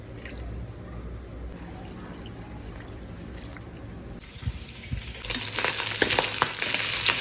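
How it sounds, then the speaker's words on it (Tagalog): Boiled meat sautéing in oil with garlic for adobong kangkong, a low steady sizzle that turns louder and brighter with spattering crackles near the end. "So, ginisa ko lang ito sa mantika na may garlic."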